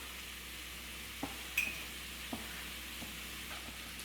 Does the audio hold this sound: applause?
no